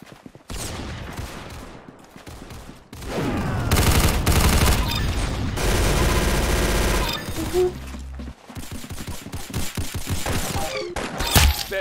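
Rapid gunfire from the Roblox shooter game Arsenal, with bursts of automatic fire and single shots cracking in dense, loud volleys that alternate with quieter stretches of game sound throughout.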